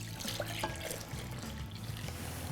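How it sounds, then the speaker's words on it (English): Liquid fruit jelly pouring from a container into a ceramic jelly mould, a steady close trickle and splash lasting a couple of seconds, with no voices. "I'm just going to carefully pour it in."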